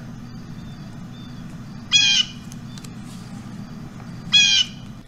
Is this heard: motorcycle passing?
no